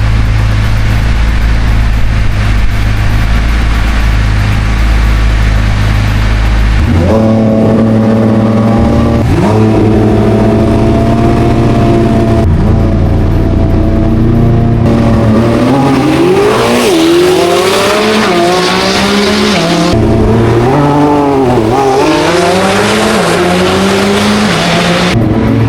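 A Corvette C8 ZR1 and a Lamborghini Revuelto drag racing with similar power: loud steady engine drone at the line, then hard launch and rising revs climbing through repeated gear shifts, close and continuous, no talk.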